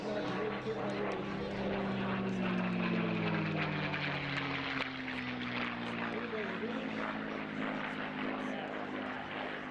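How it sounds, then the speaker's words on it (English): A North American P-51D Mustang flies a display at an airshow, its propeller engine droning steadily and shifting in pitch as it passes, under a commentator's voice. "North American P51D Mustang being presented for you today"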